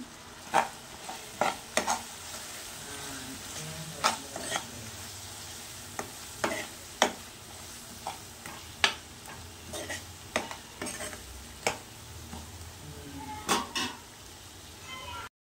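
Vegetables with chili powder sautéing in a pan, soft steady sizzle punctuated by regular scraping and tapping strokes of a spatula, close and fairly quiet.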